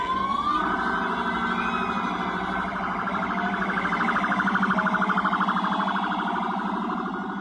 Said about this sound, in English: The doors are open, the sirens are on.